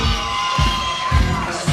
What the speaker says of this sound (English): the fans are waving their hands and clapping and getting excited